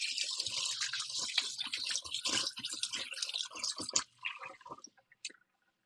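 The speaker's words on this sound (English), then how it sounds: "I'm going to step over here and I'm going to rinse my hands." Hands rinse under a running kitchen tap, with close, continuous splashing water that breaks up into drips and stops near the end.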